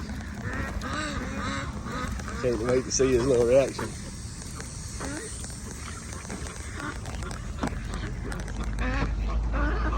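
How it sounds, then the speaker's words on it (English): Ducks quack in short nasal bursts, a cluster of them close by, while a person talks over the calls. "We got the ducks."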